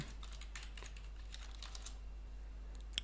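Username and password typed on a computer keyboard, a steady run of fairly quiet close key taps over a low hum, with one sharper click near the end.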